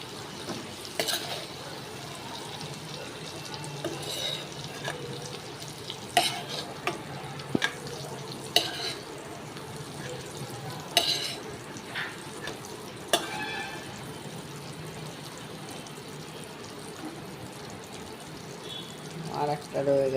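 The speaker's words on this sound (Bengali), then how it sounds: "বেগুন বেশি ভাজা প্রয়োজন হয় না।" Brinjal fries in oil and is stirred with a utensil, giving a soft, continuous sizzle broken by several sharp scraping clicks and clatters from the pan.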